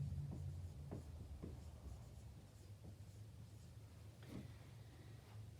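A hand writes out sentences in very quiet, scattered scratching strokes of a pen or pencil, each short and faint against a low background hum.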